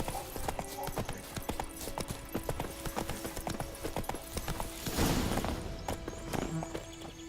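Roach the horse in The Witcher 3, rhythmic galloping clip-clop of hooves close and steady throughout, with game ambience and a brief heavier rush midway.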